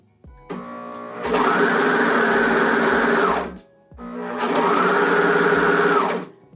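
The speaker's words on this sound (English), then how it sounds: "You're just sewing this straight on and trying not to cut into the elastic" A sewing machine stitches elastic onto swimsuit fabric in two steady runs of about three seconds each, with a brief pause between them. The whirring is loud and close.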